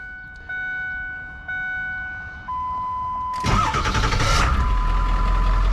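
A few electronic chime tones ring out, then a Ford 7.3 Power Stroke diesel truck engine cranks and catches, settling into a loud, steady, rumbling idle.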